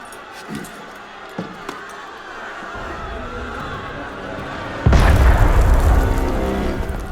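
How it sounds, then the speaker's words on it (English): A low, heavy boom of cannon fire in Assassin's Creed Unity erupts partway through, followed by a sustained rumbling roar after faint thuds and ambient noise. "That was cannon fire."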